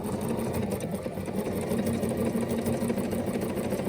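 A Bernina sewing machine stitches pieces of fabric in a fast, even mechanical whir with rapid needle ticks. It runs steadily and loudly at close range without pausing.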